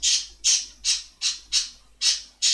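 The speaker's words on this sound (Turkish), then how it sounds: "arkadan yine kuş sesi geliyor" A bird squawks seven times in a steady rhythm, each call a harsh, loud, close burst separated by short gaps.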